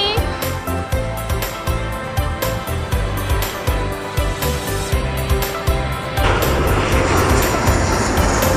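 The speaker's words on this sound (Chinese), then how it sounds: "这一架要降落的飞机就是长荣航空的飞机" An EVA Air Airbus A330-300 airliner on flight BR282 from Cebu comes in to land at Taoyuan Airport, a steady loud jet roar that swells and grows harsher toward the end as it passes near.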